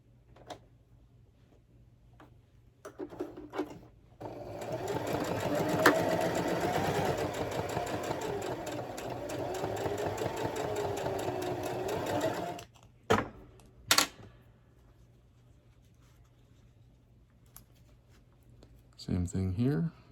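Sewing machine stitching a fabric mask, a steady close whirring run of about eight seconds, then brief clicks and handling noises, with speech around it.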